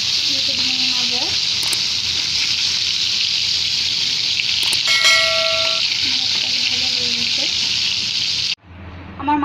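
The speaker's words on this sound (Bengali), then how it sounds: "মাছটা আমি হালকা ব্রাউন কালার করে ভাজবো" Fish fries in hot oil until lightly browned, a loud, steady sizzle and hiss that runs on under a speaking voice before cutting off sharply near the end.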